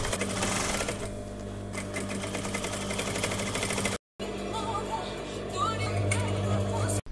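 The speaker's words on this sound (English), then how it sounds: "At the free borders, I make seam for the materials to not fringe." A sewing machine stitches a seam along the free edge of old denim, whirring loudly in steady bursts with a brief stop partway through and a pause at the end, while faint speech sits underneath.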